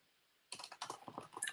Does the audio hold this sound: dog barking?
no